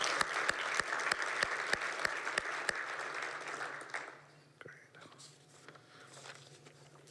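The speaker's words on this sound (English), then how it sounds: "A big round of applause for Noah, Georgie, and the mentorship team for all their efforts" An audience at a talk on generative AI gives a round of applause, with quiet, scattered clapping and a few loud claps near the microphone that fade out after about four seconds, followed by low room noise.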